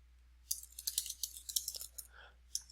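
Typing on a computer keyboard, with a quick irregular run of light key clicks, faint and close, followed by a brief pause and a final tap.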